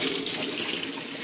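Very hot tap water gushes steadily into a sink for washing new fleece, a dense continuous hiss and splash heard up close with no talking.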